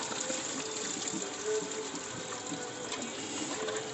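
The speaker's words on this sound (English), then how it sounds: "Alright, now we just pull this off and we let it drain." Coolant draining from the radiator of a 2003 Chevy Impala with a 3.4 liter engine during a backyard flush, a steady close gush of liquid pouring without pause.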